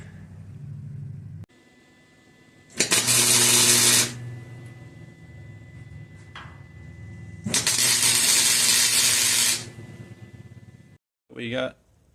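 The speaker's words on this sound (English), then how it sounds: "we're going to clamp them back into place and we're going to start tack welding" Tack welding on steel raised bed floor rails, giving two loud, sustained bursts of crackling arc noise of about one and a half seconds each, separated by quieter workshop hum, with a brief third burst near the end.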